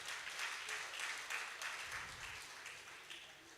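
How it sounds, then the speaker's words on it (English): Audience applause at a valedictory lecture at The Polytechnic, Ibadan, a sustained crowd clapping from a distance, fairly faint and even throughout. "Clap for him, please."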